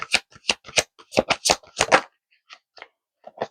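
Tarot cards shuffled in a rapid run of crisp riffling bursts, then a few softer, scattered flicks as single cards are drawn from the deck; close and clear with no talking.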